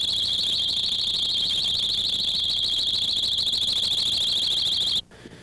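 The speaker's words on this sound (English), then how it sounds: "insert these ear-piercing alarms on your doors" A piercing electronic door alarm shrieks in a steady, high warbling tone for about five seconds and then stops abruptly, leaving faint room noise.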